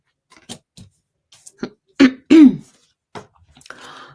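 A few short throat-clearing coughs, one pair louder and close, among quieter scattered clicks and rustles.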